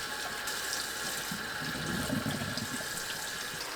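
Tap water runs steadily into a sink as a bundle of perilla leaves, stem ends trimmed, is rinsed for water kimchi, a constant close splashing hiss with no talk.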